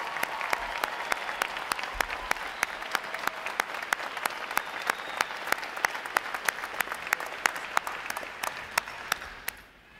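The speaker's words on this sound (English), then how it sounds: "how about another round of applause for our award recipients and outstanding work for this training group" Crowd applause rings out for award recipients at a U.S. Navy recruit training graduation ceremony, steady dense clapping from a large audience lasting throughout before tapering off at the very end.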